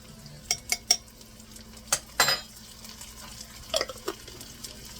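Chopped jarred garlic, half a teaspoon, dropping onto onions frying in a pan, giving soft sizzling broken by several sharp spoon and utensil clinks and a brief stirring scrape, close by with no talking.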